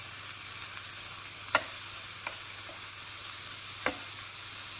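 Lardons frying in a pan give a steady soft sizzle throughout, with a couple of sharp clicks of a utensil against the pan standing out, and no voices.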